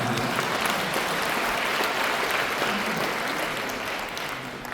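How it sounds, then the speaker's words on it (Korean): Audience applause fills a convention hall ballroom during a book concert, a steady dense wash of many hands clapping close and loud throughout, tapering slightly at the end with no voices over it. "따뜻한 박수 부탁드립니다."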